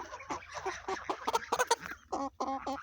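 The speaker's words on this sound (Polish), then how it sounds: "Tu gęsi." Close-up honking and cackling from a small group of geese at a poultry yard, a quick string of harsh calls followed by a few louder nasal honks.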